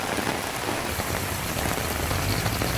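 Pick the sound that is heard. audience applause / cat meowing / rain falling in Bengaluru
rain falling in Bengaluru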